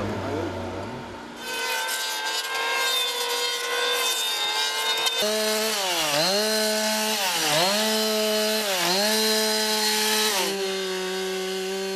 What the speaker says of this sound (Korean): 전기톱으로는 나무를 자르고